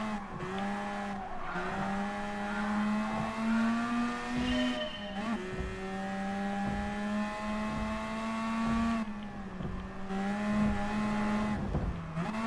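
Race car engine in Gran Turismo Sport, loud and close, revving up repeatedly with brief drops between gear changes and rising pitch sweeps over about twelve seconds.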